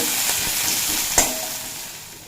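Onions frying in oil until browned for a ridge gourd recipe, a steady close sizzle with a single sharp clatter of stirring partway through, no voices.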